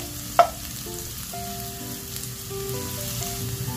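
Chopped red onion sizzles steadily in a hot pan, a close, continuous crackle with a brief clatter near the start.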